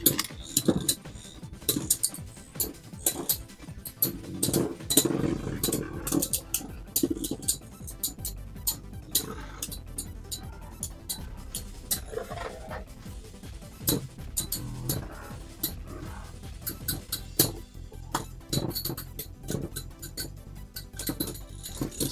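Beyblades spin and clash in a stadium, a free-spin blade among them, giving a run of sharp metallic clinks and scraping knocks over a faint whirring grind, close and irregular, with an occasional voice.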